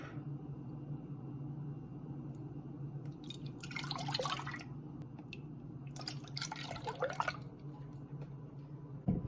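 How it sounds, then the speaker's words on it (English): Two cups of milk poured into a pot for banana pudding, two short splashing pours about two seconds apart over a low steady background hum. "So to make the pudding, we are going to be adding 2 cups"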